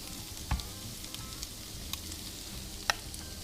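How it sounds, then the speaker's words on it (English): Ricotta and ground beef chaffle mix sizzles in a waffle iron with a faint, steady hiss broken by a few small pops and clicks. "we're going to take our mixture here and we're going to start adding it to the waffle irons here"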